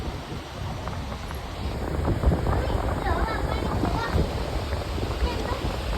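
Sea waves wash in along the shore under gusting wind that buffets the microphone, making a continuous rough roar with surges.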